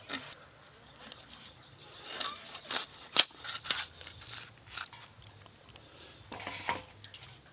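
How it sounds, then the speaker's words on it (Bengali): A katla fish being cut into large pieces, with a series of irregular crunchy chops and cuts of blade through flesh and bone, fairly close but quiet, against a faint room hum. "এবার কেটে নেব।"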